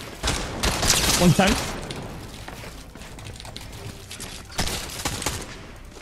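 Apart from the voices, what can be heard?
gunshots in a video game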